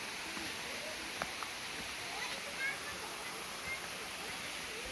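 Steady broadband rushing of a waterfall at a campground in Loji, Bogor, a continuous wash of falling water with faint scattered knocks and brief voice-like sounds.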